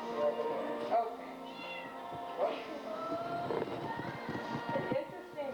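Misty, a shelter cat, meows repeatedly in short cries over a busy animal-shelter background, with people talking throughout.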